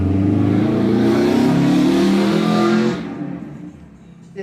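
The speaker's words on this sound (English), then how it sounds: "the cars have to bless me with their noise" A car roars past close by, its engine loud and rising, then fading quickly as it moves away.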